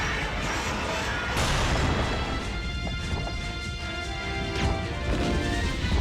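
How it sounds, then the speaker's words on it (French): A grenade blast in Resident Evil Code Veronica X erupts as a loud, dense crash of broadband noise that swells suddenly and rumbles on for several seconds. "Super, la grenade."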